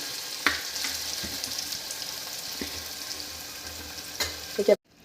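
Broken-wheat daliya porridge with tomato boils in a pot, a steady close bubbling hiss broken by a few stirring clicks and clinks before it cuts off abruptly.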